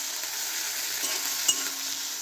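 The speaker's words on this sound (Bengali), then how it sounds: "ফোড়ন দিয়ে ভাজা ভাজা করবো।" Whole cumin seeds sizzle in hot oil as a tempering for a fried onion and pumpkin dish, giving a steady, close hiss with one sharp crackle partway through.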